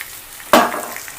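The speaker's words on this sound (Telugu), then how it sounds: "కొంచెం లైట్గా వేగనివ్వాలి." A pan of chicken curry with tamarind leaves bursts into a sudden sizzle as ingredients hit the hot oil, a sharp hiss that fades into a softer crackle over a quiet background.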